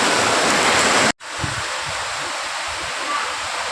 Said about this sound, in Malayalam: നല്ല കാറ്റും മഴയാണെന്ന് പറഞ്ഞില്ല, നല്ല കാറ്റടിക്കുന്നുണ്ട് കേട്ടോ